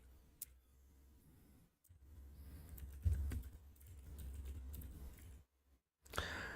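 Typing on a computer keyboard during game programming, a quiet stream of soft key clicks at an uneven rhythm, close by, with short pauses and a few sharper taps.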